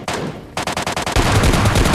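Rapid automatic gunfire from a shooting video game, a burst of evenly spaced shots followed by louder, denser continuous firing, loud and close with no speech.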